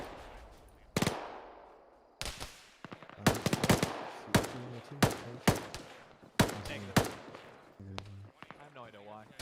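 Gunfire rattles across an Arma battlefield as a shooter fires from down a hill, with sharp cracks and short bursts spaced irregularly, some close and loud, others fainter, while voices talk between shots.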